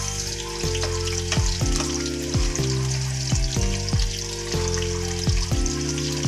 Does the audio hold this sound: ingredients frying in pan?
yes